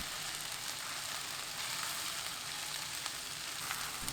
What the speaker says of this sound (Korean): 골고루 펼치고 위에 계란을 부어줍니다.